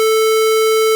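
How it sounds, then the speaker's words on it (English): A steady square-wave test tone, buzzy and loud, holding one pitch with strong odd harmonics for about a second without a break. "So the original square wave is this loud"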